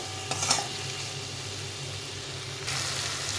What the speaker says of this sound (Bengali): মশলাটা কষা হয়ে গেছে, মশলা থেকে তেল ছেড়ে দিয়েছে।